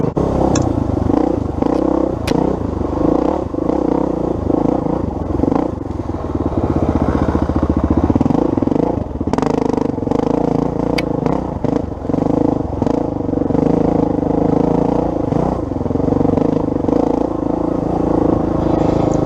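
XR400 and 300xc dirt bikes wind along a narrow trail at Evart, their engines droning loudly and steadily throughout, rising and falling with throttle changes and the clatter of the ride.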